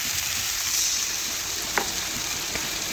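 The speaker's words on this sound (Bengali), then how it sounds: "ভালোভাবে এটাও নাড়াচাড়া করে একটু কষিয়ে নিচ্ছি" Fish masala with mustard and poppy seed paste stir-fried in a pan, giving a steady, loud, even sizzle with a couple of brief scrapes of the spatula, no voices.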